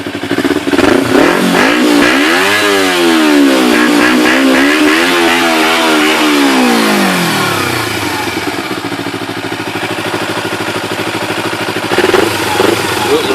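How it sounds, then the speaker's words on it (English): A 2012 Kawasaki Ninja 250 fitted with a Leo Vince slip-on exhaust revs up and down in several loud, close sweeps, then drops back to a steady idle that carries on to the end. "So let's rev her up a little bit."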